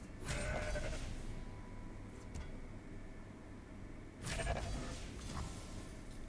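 A goat bleats twice in the card game Legends of Runeterra, each a short wavering cry separated by a few seconds of soft background noise.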